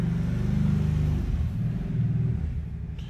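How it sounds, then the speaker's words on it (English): A Kawasaki Brute Force 750 ATV idling outdoors, its engine a low rumbling drone that rises slightly and then settles, heard from a short distance with no speech. "You can hear that's his Kawasaki Brute Force 750 out there."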